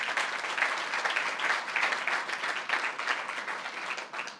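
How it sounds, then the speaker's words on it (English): A crowd applauds steadily at a press briefing on a light rail federal grant, with dense continuous clapping that keeps its level for several seconds before easing slightly, and no voices. "Give ourselves an applause."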